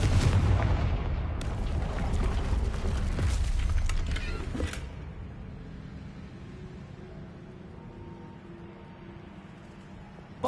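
A Confringo fire-blast spell from the Hogwarts Legacy video game bursts with a loud, booming, crackling blast that rumbles for several seconds and then dies into a quieter background hum.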